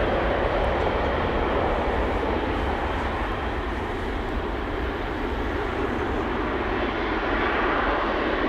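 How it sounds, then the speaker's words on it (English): A KLM Airbus A350 jet airliner lines up for departure at Amsterdam Schiphol, its engines producing a loud, continuous roar and whine that stays steady and close the whole time. "A350 is coming this way. KLM flight 791 to Sao Paulo is lining up here right now."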